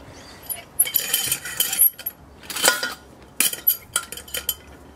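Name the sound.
Coleman saucepan being handled, metal clinking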